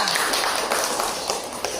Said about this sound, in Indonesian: Bagus, tepuk tangan untuk kelompok 2.